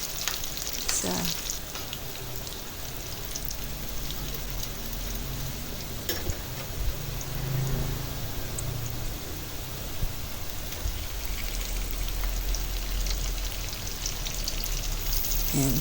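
Garlic sizzles steadily while frying in a pan for corned beef sauté, a dense crackling hiss with occasional stirring scrapes, close and continuous throughout.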